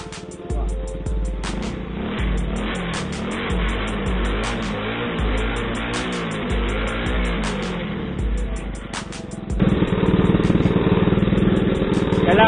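A motorcycle engine with an exhaust silencer fitted runs steadily and close, with a throbbing, pulsing exhaust note that grows louder and fuller in the final few seconds.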